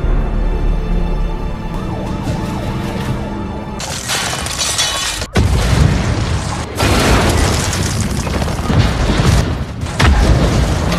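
A terrorist bomb going off in an action film set in London, with a sudden loud boom, shattering debris and a long rumbling aftermath, preceded by a tense tonal score.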